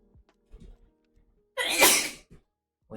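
A single sharp sneeze bursts out loud and close in the middle, preceded and followed by faint, scattered room noises during a casual art session.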